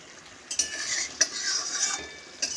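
Spoon stirring chicken kosha in a pan, with a soft sizzle underneath and several sharp metallic scrapes and knocks against the pan, close and moderately loud.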